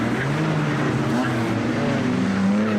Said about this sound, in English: hearing the power of that Sierra Cosworth engine.